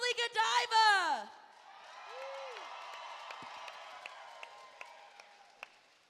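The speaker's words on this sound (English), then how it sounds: "Give a round of applause to Johnny C." Crowd at a wrestling show applauding and cheering for a wrestler's introduction, a sustained wash of clapping with scattered whoops following a loud announcer's voice at the start.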